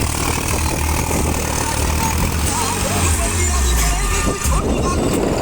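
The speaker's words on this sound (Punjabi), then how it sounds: "ਕਿੰਨਾ ਲੋਡ ਆ ਟਰੈਕਟਰ ਤੇ 36 30 ਨਿਊ ਹਾਲੈਂਡ ਫੋਰਡ ਆਈ" A New Holland Ford 3630 tractor works a flooded paddy field with cage wheels fitted, its engine a loud, steady close-up drone laboring under load, with a voice briefly heard over it.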